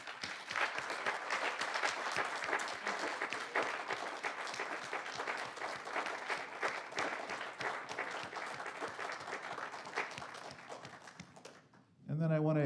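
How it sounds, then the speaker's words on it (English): An audience at a community music event applauds steadily for about twelve seconds, dense clapping at moderate distance, ending abruptly before a voice begins. "let's give Jan one more round of applause."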